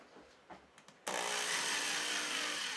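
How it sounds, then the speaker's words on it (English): Power drill boring a small pilot hole into a hard pool ball, a few faint taps and clicks, then an abrupt steady high-pitched whine of the bit grinding into the resin. "when it comes to drilling the pool balls, you want to start out with a smaller bit to make a pilot hole"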